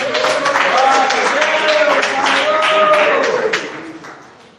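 A church congregation applauds together in sustained, dense clapping at close range, with a voice singing or calling over it before the clapping fades toward the end.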